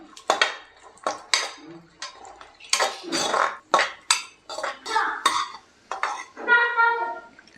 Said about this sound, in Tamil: முந்திரி திராட்சை ரெண்டையுமே நல்லா வறுத்தாச்சு